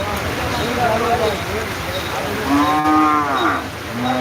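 Cattle at a busy rural cattle market in Sylhet ahead of Eid, moo loudly and nearby in two long, drawn-out calls amid a crowd murmur and rain-threatened outdoor bustle, with people talking.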